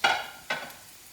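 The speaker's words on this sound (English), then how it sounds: "let's just give that a stir around" Garlic and onions fry in a pan and get stirred twice, each stroke a sharp scrape with a quick hiss that fades into a soft sizzle.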